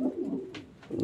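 Racing pigeons in a breeding loft give low, rolling coos in a steady murmur, with a couple of faint higher flutters or calls between them.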